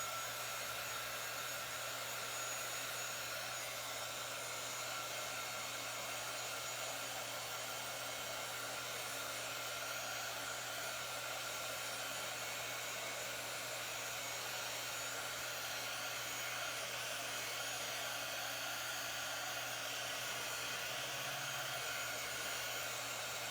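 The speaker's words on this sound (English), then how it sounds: "Nothing like the sound of a hair dryer or heat gun." Hair dryer or heat gun blowing steadily to dry paint and a transfer on a chunky wooden heart craft, a constant close whooshing whine with an electric hum, uninterrupted and alone.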